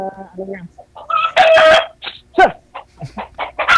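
A chicken clucks and gives a short, loud crowing call up close, mixed with a few other brief fowl sounds.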